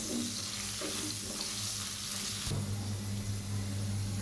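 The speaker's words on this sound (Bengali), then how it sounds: "আমি আলুগুলোকে একদম লাল লাল করে বেজে নেব" Potato pieces frying in hot oil with turmeric and salt, a steady close sizzle throughout with a faint low hum, brightening when stirred midway and continuing evenly to the end.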